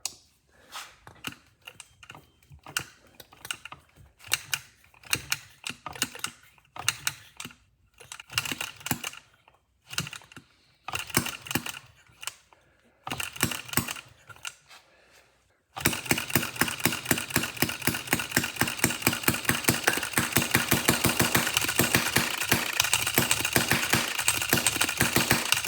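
A hit-and-miss stationary engine with a simple needle-valve fuel mixture, governor holding the exhaust valve open, is cranked in irregular bursts, then fires up into a steady, loud rapid chugging rhythm that continues without a break.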